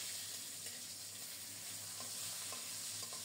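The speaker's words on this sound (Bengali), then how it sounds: "মাছের পিসগুলো লাল লাল করে ভাজা হয়ে গেছে" Pieces of large rohu fish fry in oil with a steady, faint sizzle and a few light stirring clicks, no voices over it.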